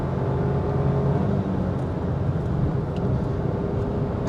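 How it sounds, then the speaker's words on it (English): The small engine of a manual car drones steadily while driving on a motorway, a low, even hum with road noise underneath, heard without talk. "it's fun to wind down the engine"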